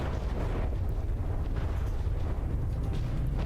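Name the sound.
HESH frag explosives exploding in the video game From the Depths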